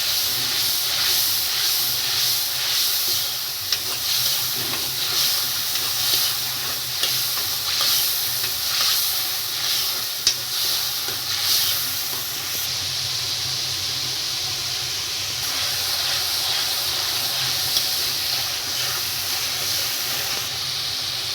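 Masala spices frying in oil with onions for an aloo mangodi sabzi: a steady, bright sizzle and hiss runs throughout, with occasional stirring scrapes and small pops, close and fairly loud with no talking.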